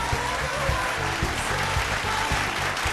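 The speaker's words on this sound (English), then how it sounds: "Round of applause again for the collaboration as they exit the stage" Applause from an audience as collaborating performers leave the stage at a vocal fusion battle TV show, a dense wash of clapping under a steady low musical beat.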